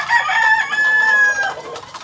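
A Boston Roundhead gamefowl rooster crows once, loud and close, in a single long drawn-out call that trails off near the end.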